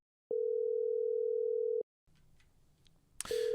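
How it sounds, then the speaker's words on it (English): A telephone dial tone plays as a hint line number is called on speakerphone: a loud steady tone, a break of faint line noise, then a click and the tone again. "I am calling this phone number"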